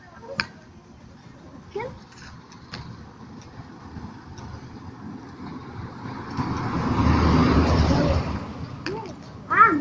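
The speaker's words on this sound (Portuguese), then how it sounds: "Tá vindo uma moto." A motorcycle approaching along a road, its engine rising to a loud nearby pass before fading, preceded by quieter traffic and scattered voices.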